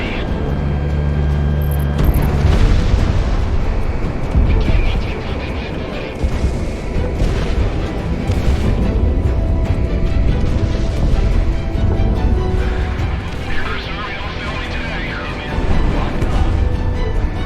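Missile launches and explosions in the jet combat game Project Wingman, continuous loud roaring rumble with booming bursts under steady engine noise, no clear isolated blast.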